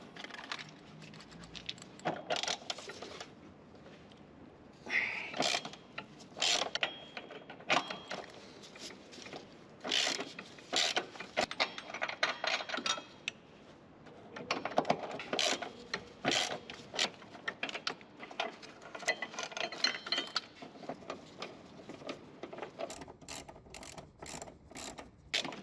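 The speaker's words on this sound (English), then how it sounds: "So just undo the two nuts holding the module and move it slightly to get your" Socket wrench ratcheting while undoing the nuts on an ABS module on a Peugeot or Citroen HDi engine, with quiet, irregular clicking bursts and metallic handling noises over about twenty-five seconds and no talk.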